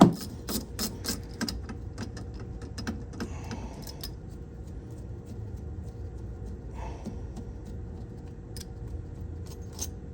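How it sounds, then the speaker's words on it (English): A socket wrench ratcheting on the side bolts of a golf cart electric motor, a burst of quick close metallic clicks and rattles at the start that thins into a few sparse clicks later, with no talk. "So what we're going to do is get a 7/16 socket, and you got 3 bolts on the side here."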